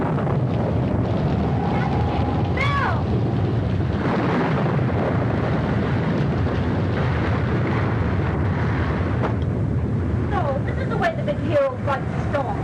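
A storm at sea roars with steady wind and heavy wash of water through the whole stretch, loud and continuous, while voices speak over it.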